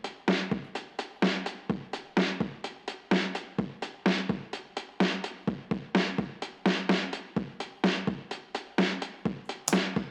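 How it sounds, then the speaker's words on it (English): Pop rock drum loop from Splice played in Logic Pro, a steady punchy pattern of kick, snare and hi-hat repeating evenly, heard alone and fairly clear. "Okay, so the main drum loop sounds like this."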